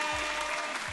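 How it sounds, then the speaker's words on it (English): Applause for Cortez on an online call during an artist talk for the Free Write Exhibition at EastEnd Gallery: a brief, dense wash of clapping that holds steady for about a second. "please give Cortez a huge round of applause and love."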